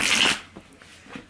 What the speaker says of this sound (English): I'm going to shuffle a little bit more so that we can see what's going on.